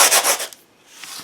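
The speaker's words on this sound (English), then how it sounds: "Now I'm going to bring in my sandpaper and really give it a good sanding." Sandpaper scrubs across a book cover coated in texture paste, giving a few quick, close rasping strokes that fade to quiet, with no speech.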